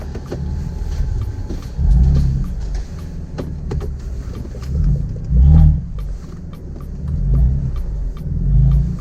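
BMW M4 exhaust with the valves open while driving, a deep low rumble that swells and eases in several loud surges, heard from close by with no talking.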